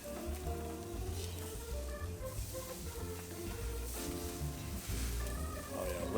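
Hamburgers sizzle on a Big Green Egg grill in a continuous close crackle, with brief bumps and movement noises as the lid opens and patties are handled, no clear talking.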